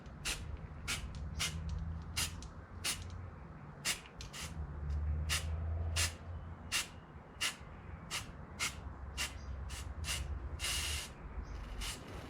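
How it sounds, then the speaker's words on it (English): Short, sharp bursts of a spray gun applying silver flake paint onto wet paint hiss again and again in an uneven rhythm, each lasting a moment, against a quiet low background hum. "I'll show you guys how to spray this silver flake onto the wet paint"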